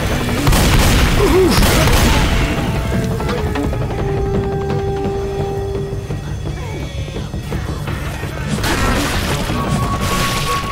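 In Left 4 Dead, a grenade goes off with heavy booms and crashing debris. The loud blast opens the clip, the rumble fades through the middle, and another burst of booms follows near the end.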